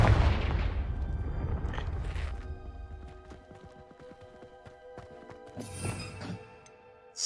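The Confringo blasting spell in Hogwarts Legacy, a sharp blast at the start with a crackling tail, then quieter clattering and a second short burst near the end, with no talk.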